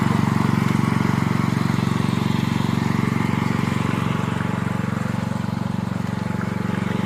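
A concrete power trowel, a helicopter-style finishing machine on a concrete pour, runs steadily nearby with a loud, throbbing engine drone and whirring blades that stay constant throughout.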